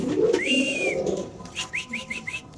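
Pigeons at a pigeon market call nearby: one long whistling note, then a quick series of short rising chirps over low cooing sounds.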